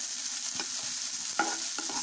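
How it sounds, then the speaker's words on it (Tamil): A chopped medium-sized onion fries in a pan, a loud continuous sizzle close up, punctuated by a few sharp scrapes of stirring and no voices. "எடுத்து இதை நல்லா ஃப்ரை பண்ணிக்கோங்க."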